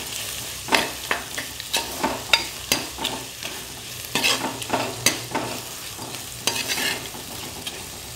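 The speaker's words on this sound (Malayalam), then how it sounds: "ഉപ്പിട്ടിട്ട് നന്നായിട്ട് ഇളക്കാം." Prawn masala for Kerala prawn theeyal is stirred in a frying pan after salt is added, with rhythmic scraping strokes about every half second over a constant close sizzle, and no voices.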